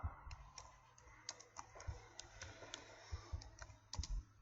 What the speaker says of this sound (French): on ouvre la commande cmd et on tape